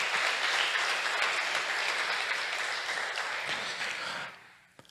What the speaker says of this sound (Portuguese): Dá uma salva de palmas para Jesus nessa noite.